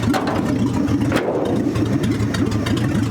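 A 1965 Ford F100 engine idling with no exhaust fitted, a steady mid-pitched chugging pulse close by that stays even for the whole stretch, with a brief sharper rap partway through.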